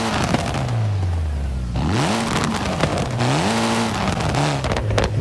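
A Mitsubishi Evo in the racing game Forza Horizon 5 revs hard several times, its engine pitch sweeping up and down while anti-lag pops and crackles burst through between the revs.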